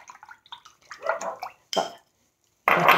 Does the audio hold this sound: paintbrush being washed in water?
yes